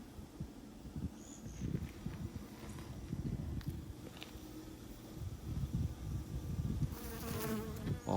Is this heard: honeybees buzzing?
yes